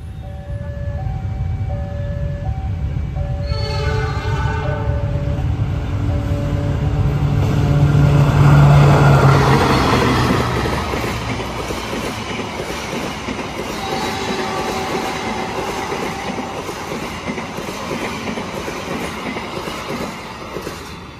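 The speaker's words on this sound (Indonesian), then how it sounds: "persiapan berjalan langsung kereta api Argo Wilis dari stasiun Surabaya Gubeng dengan tujuan akhir stasiun Bandung" Argo Wilis passenger train pulling out of Surabaya Gubeng station bound for Bandung, with a horn-like tonal chord at the start, then a steady loud rumble and clickety-clack of wagons rolling past close by, with no talk.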